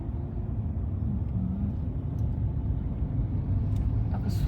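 A manual-transmission car rolls through city streets during a first driving lesson, its engine giving a steady low rumble from inside the cabin that builds slightly as the gas is pressed.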